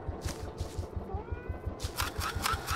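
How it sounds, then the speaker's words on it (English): A cat meows faintly in the sci-fi horror video game Greyhill Incident, a thin wavering cry rising over a steady rhythm of soft low thuds. "Is that a cat?"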